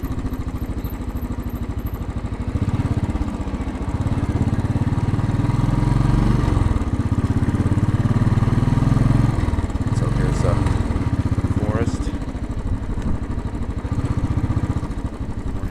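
A Royal Enfield Bullet rides through New York City streets with a steady, close thumping single-cylinder drone that rises and falls as it shifts gears, while the rider talks over it.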